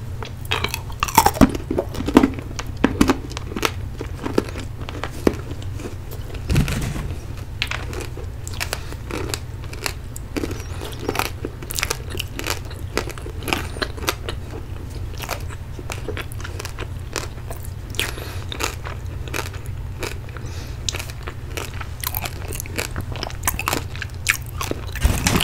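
Rock-shaped candy is bitten and chewed close to the mic in ASMR style, giving repeated sharp crunches and cracks in an irregular rhythm over about twenty-five seconds, with no talk.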